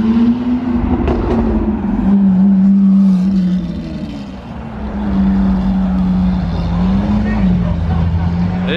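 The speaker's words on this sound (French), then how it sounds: "Oh, ce convoi. Aventador Man et Classe G Brabus." A convoy with a Lamborghini Aventador and a Mercedes G-Class Brabus rumbles past nearby in Monaco, its engine note swelling, dipping briefly, then rising again over steady traffic.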